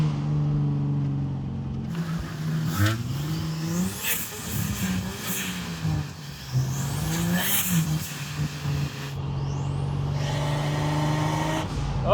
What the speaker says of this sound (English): we'll definitely hear some turbo noises in my turbo Jeep